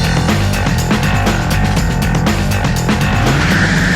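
A race car drives on a track, its engine a loud, continuous close-up drone with pitch steps as it shifts through gears, steady for the whole stretch.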